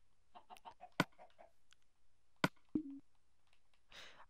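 A chicken in the Minecraft Xbox One Edition game gives a few short clucks, spaced irregularly and fairly quiet against near silence, followed by a soft burst of noise near the end.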